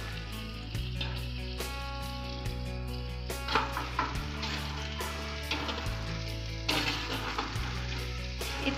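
Taro leaf mixture fries in a pan with a dense, steady sizzle throughout, broken by occasional stirring scrapes and a low continuous hum beneath.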